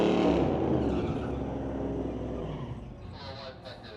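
A street-legal drag race car crosses the finish line at about 55 miles an hour, a loud engine drone that fades and lowers as it passes, with faint talk near the end.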